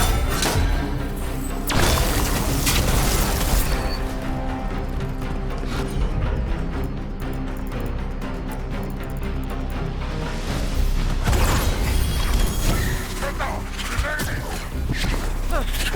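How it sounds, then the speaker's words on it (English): Gatlock cannons fire during a battle in the video game Dragon Age The Veilguard, loud heavy bursts and thuds repeating over dense combat noise and clanking, with voices speaking in between. "Watch yourself. They have Gatlock cannons."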